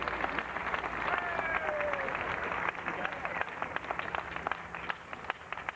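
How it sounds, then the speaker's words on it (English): An audience applauds at a museum opening ceremony, with moderate, fairly continuous clapping from a crowd in a hall, some louder individual claps, and faint voices mixed in. "Please give him a round of applause."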